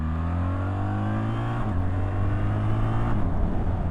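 A BMW R1300 GS motorcycle accelerates hard through the gears on an open national-speed road, its engine note rising steadily with clear shifts, loud and close throughout.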